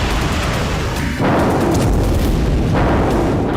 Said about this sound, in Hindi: रूस की जमीन पर विदेशी मिसाइलों से ताबड़तोड़ धमाके